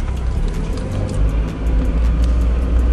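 A Mazda Miata NB1 with a newly installed short shifter drives along, giving a steady engine and road rumble that swells slightly midway, heard from inside the car with no talk.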